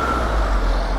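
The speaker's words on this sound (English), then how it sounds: "Motor home" A motor home rolls past on a busy road, a steady loud rumble of engine and tyre noise close by, filling the whole second without voices.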